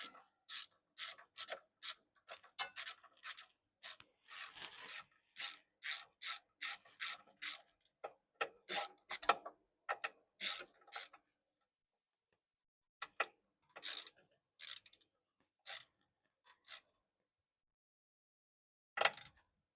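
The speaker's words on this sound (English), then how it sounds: "Got me a 13 millimeter 3/8 drive, so let's see if we can get these nuts tightened up." A 3/8-drive ratchet with a 13 mm socket clicks in rapid bursts while tightening nuts during a Massey Ferguson 383 PTO clutch pack rebuild, close up and quiet, with pauses and a final short burst.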